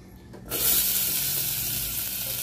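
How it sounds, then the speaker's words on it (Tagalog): Onion and garlic hit hot oil in a pot with a sudden loud sizzle that settles into a steady, bright crackling hiss close by. "Ilagay na natin yung ating sibuyas bawang."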